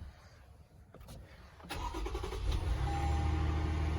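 A twin-turbo V6 pickup truck with about 15,000 miles cranks over and catches, the engine rising into a loud steady idle with a faint whine after a short quiet lead-in.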